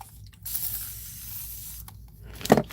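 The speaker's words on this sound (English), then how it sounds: "I'm going to spray a little water on here." Water spritzed from a spray bottle onto a dry gel printing plate, a couple of short airy hissing bursts close up in a quiet room.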